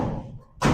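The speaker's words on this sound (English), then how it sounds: "Again, not a gunshot, just a ball on a metal roof." A hard-hit baseball strikes a metal roof at a ballfield, giving one sharp, loud bang after a moment of softer background noise.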